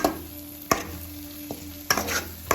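Garam masala with curd and salt cooking in a pan for a bhindi curry, a low steady sizzle broken by a few sharp stirring clacks, heard alone with no talk.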